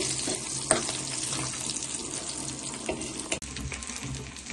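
Fish frying in a pan with oil, a steady close sizzle and crackle broken by a few sharp pops, with no talking.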